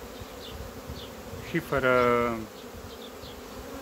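Honey bees buzz steadily around an opened beehive during a colony inspection, a close continuous drone with a brief loud pass near the microphone while someone speaks a few words.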